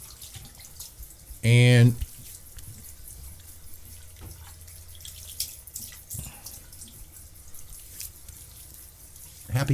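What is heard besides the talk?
cold water running from tap while shaving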